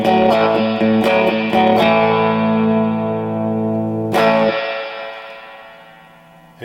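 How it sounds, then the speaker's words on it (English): Electric guitar chords ring out drenched in splashy spring reverb from a 1964 Fender 6G15 reverb unit, strummed a few times and then left to decay with a long, wet tail. "There you go, cap job on a reverb unit."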